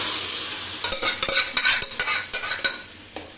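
Food sizzling in a hot frying pan while a thick ground eggplant mixture is poured in and stirred, with a run of sharp scraping and clinking strokes.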